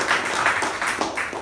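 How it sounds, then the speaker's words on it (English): Brief burst of clapping at a club meeting for the Master of Ceremonies, a small group applauding with an uneven, rhythmic patter at close range. "let us give our Master of Ceremonies a wonderful round of applause."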